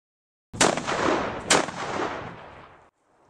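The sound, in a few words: artillery barrage and gunfire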